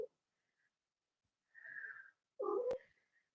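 Cats making odd turkey-like warbling calls indoors, two separate bursts after a near-silent stretch, the second louder and broken by a sharp click, heard close up.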